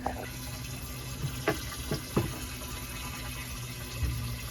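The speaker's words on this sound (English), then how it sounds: "So we're gonna put some water in here." Water pouring into a 55-gallon filter barrel outdoors: a continuous rushing fill with a few sharper splashes and knocks, moderately close, with no talking.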